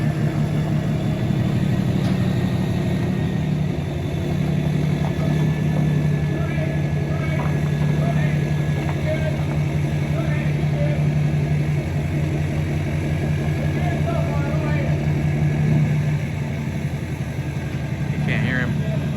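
Diesel idle from someone's Duramax pickup, a steady low rumble running the whole time with voices talking over it outdoors.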